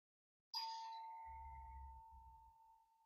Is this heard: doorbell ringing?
yes